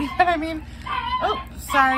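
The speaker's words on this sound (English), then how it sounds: "I apologize for the barking" Small dog barking in short excited yips and bow-wows indoors during a stormy day, several sharp barks mixed with a person talking nearby.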